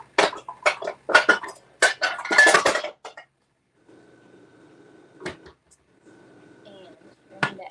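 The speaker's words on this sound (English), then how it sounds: "Now I'm going to grab my pan." A pan grabbed and handled in a kitchen, a burst of clattering metal knocks and clinks over a few seconds, then quiet with a couple of isolated bumps; a voice talks during the handling.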